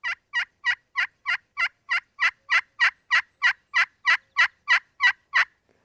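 A pot-and-peg turkey call imitates a hen turkey yelping, giving a clean run of about eighteen evenly spaced, raspy yelps that grow slightly louder through the series, close and alone.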